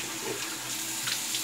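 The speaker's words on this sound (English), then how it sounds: "A cold water rinse and alum block." Running tap water from a faucet into a sink during a cold rinse after a wet shave, a steady, soft, continuous splash with no talking.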